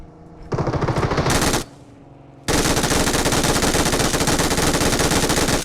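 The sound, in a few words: gunfire in the video game PUBG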